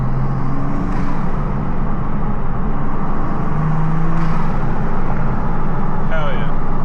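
A Toyota Supra with an ARMASPEED intake and six-speed manual drives at night, its engine droning loud and steady from inside the cabin under heavy wind noise, with a voice speaking over it.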